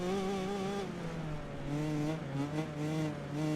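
A buzzing motocross bike engine from the video game MXGP PRO drones and rises in pitch as it revs, steady and close, with no talking.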